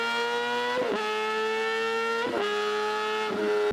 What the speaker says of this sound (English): This inline 4-cylinder is where you get that screamer sound.